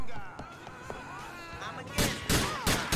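Police shotgun blasts in GTA IV ring out in a burst of several loud booming shots near the end, following quieter game sounds with a voice talking underneath.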